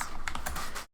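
Quick keystrokes clatter on a computer keyboard, a short close burst of several taps under continuous typing noise that cuts off abruptly.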